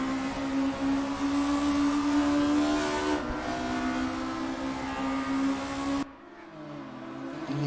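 Volkswagen Scirocco race cars in a racing video game at Brands Hatch drone with a steady, loud engine tone for several seconds, then cut abruptly to a quieter, shifting engine note.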